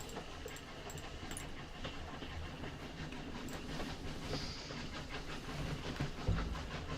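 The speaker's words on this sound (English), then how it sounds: "a train pulling alongside you." A train pulls alongside as a sound effect in a tabletop role-playing game, a steady low rumble with rhythmic clicking wheels and light hiss, moderately loud and continuous without talk.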